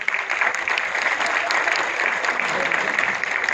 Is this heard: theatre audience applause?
yes